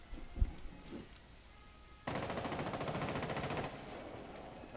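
Machine-gun fire in Rainbow Six Siege on the Chalet map during a hostage match: a few scattered shots early on, then a sustained rapid automatic burst lasting roughly two seconds, moderately loud, with no talking.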